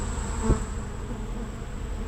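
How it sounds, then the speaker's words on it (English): A steady, dense buzzing of many honeybees being removed from a hive behind a fireplace fills the air up close, a continuous drone with one brief bump partway through. "Take those bees out of that box and get them rehomed."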